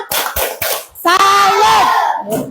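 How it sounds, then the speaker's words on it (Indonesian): In a primary school classroom, three loud, evenly spaced hand claps ring out, followed by a group of children shouting together in a rhythmic chant. "Tepuk salut kepada kelompok 1."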